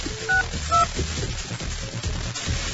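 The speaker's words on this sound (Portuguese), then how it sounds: "Sempre que eu uso esse código de operadora, demora pra chamar, não funciona." Telephone keypad dialing tones play as an operator code is entered, two short distinct beeps near the start followed by faint line noise, heard alone without talking.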